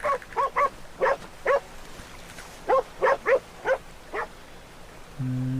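A dog in Red Dead Redemption 2 barks in two bursts of quick, sharp yaps over a faint ambient background, followed by a low hum at the end.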